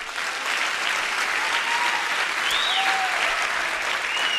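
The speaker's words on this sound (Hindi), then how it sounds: "चलो खुश होकर तालियां बजाओ थोड़ा।" Audience at a network marketing seminar breaks into steady, dense applause that holds at an even level from start to finish, with no speech over it.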